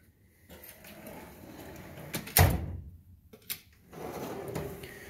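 A drawer on a Snap-on toolbox slides open, with a sharp metallic clunk and rattle partway through followed by a softer trailing slide, close and alone.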